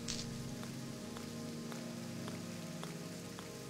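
Steady video-game rain pattering on a surface, with a few distinct drops landing at irregular intervals over a soft, even hiss.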